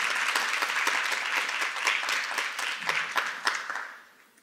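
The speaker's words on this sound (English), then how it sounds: "I hear the applause." Warm, dense applause from a panel audience at a history-education event in a museum, many hands clapping together at steady volume before fading out at the end.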